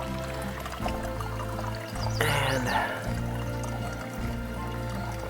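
Water from a piped spring along the Appalachian Trail pours steadily into bottles, a continuous filling splash over a low rumble, swelling briefly midway.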